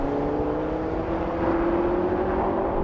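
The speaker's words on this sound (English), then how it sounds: "So the BMW and the Mercedes rocketed." BMW M5 and Mercedes-AMG E63S launch side by side in a drag race, a loud continuous engine roar whose tone climbs steadily as they accelerate away.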